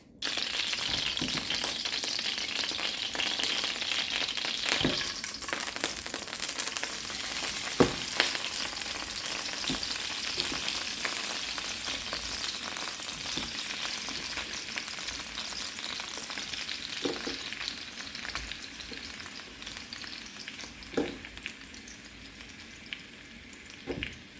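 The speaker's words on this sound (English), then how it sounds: "I'm going to add in the meat and get that fried up and crispy just a little bit" Steak meat for a Korean BBQ rice bowl fries in hot olive oil, giving a continuous crackling sizzle with a few sharp clatters from stirring. It is close and moderately loud, with no speech.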